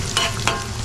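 Prawns fry in hot oil for a prawn pickle, a continuous sizzle with two brief louder stirring scrapes over the short stretch.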